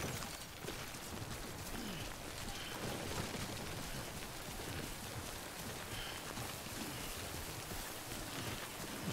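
Steady rain in the video game Death Stranding, a constant faint hiss of drops with no distinct pauses or voices.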